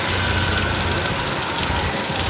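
Water gushes down like a heavy shower at the Karkala municipality, a loud, continuous splashing roar that stays steady throughout the short stretch, close by and with no voices.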